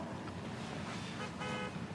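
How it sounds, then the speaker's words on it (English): Street noise with a car horn honking and a dog barking somewhere nearby, short tooting blasts over a steady traffic hum, moderately faint and heard without talk. "That there, the honking of the car, the dog bark."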